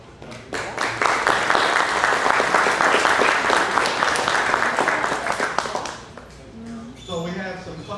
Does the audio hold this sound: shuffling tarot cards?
no